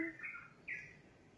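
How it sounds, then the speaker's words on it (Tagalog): Morning birds give a few quick, faint chirps from some distance, two or three short calls in a quiet setting. "Ang mga huni ng ibon. Tweet, tweet."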